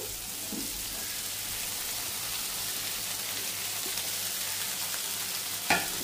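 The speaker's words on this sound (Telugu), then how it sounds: "మొత్తం వేసుకొని మీడియం ఫ్లేమ్లో పెట్టుకొని వేయించుకోవాలి." Onions, paneer and tomato fry together in a pan over a medium flame, producing an even, unbroken sizzle like light rain, with a single soft clink near the end.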